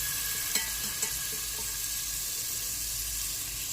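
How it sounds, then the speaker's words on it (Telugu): Butter sizzles in a pan while pav bhaji is being made: a continuous, even frying hiss with a couple of faint clicks early on, and no voices. "ఇప్పుడు వేరే గిన్నె పెట్టుకొని దాంట్లో కొంచెం బటర్ వేసుకుందాం"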